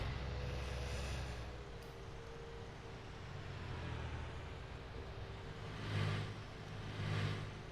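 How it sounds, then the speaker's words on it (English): Cement lorries driving past a farm, a low engine rumble rising and falling at a distance, two heavier swells near the end as trucks go by, with no voices. "Cement lorries."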